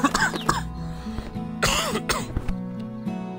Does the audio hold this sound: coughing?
yes